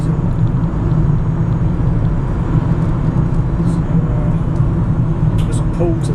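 A Citroen Berlingo LPG van drives on a foggy day, with a steady, subdued engine and road rumble filling the cabin. A faint voice can be heard underneath.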